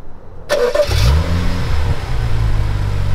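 A BMW engine starts by remote starter, a short whir of the starter followed by a catch and a brief rev that settles into a steady, close idle rumble.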